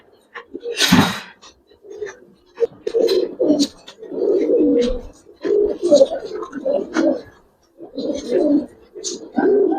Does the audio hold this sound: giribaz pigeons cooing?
yes